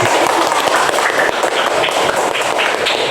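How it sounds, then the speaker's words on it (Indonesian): A class applauds its students with steady, close clapping that stays even and unbroken from start to finish, a thick patter of many hands at once. "Sekarang tepuk tangan untuk Asmi dan"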